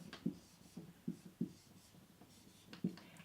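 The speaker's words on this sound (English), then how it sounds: "Let's write it down." A word is handwritten with pen on paper, heard as soft, close scratching strokes with several distinct taps and pauses between letters.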